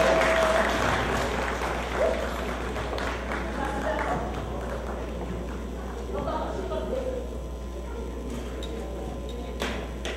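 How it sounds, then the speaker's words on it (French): Crowd at a cultural evening of a West African community association in New York applauds loudly and steadily throughout, with cheers and a voice over a PA mixed in over a constant low hum. "il faut applaudir ça très fort"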